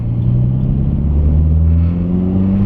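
A 2011 Mitsubishi Evo X with super all-wheel control accelerating hard: a loud, steady engine drone that rises slowly in pitch, heard from close by inside the car, with no one talking.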